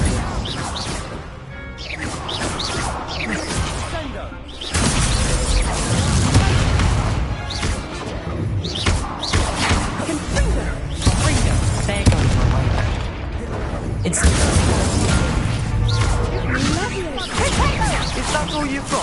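Incendio fire spell being cast in a Harry Potter video game, loud whooshing blasts and crashing impacts repeating over dense game music and effects.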